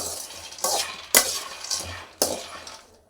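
Chickpea seeds roasting dry in a pan are stirred in repeated scraping, rustling sweeps with sharp clinks, about four strokes in quick succession, close and fairly loud.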